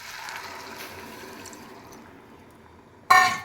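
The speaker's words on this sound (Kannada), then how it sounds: "1 ಕಪ್ ಅಕ್ಕಿಗೆ 2 ಕಪ್ ನೀರು ಹಾಕಬೇಕು" Water poured onto fried jeera rice in a pan, a faint low trickle that ends in a sudden loud splashing gush close by.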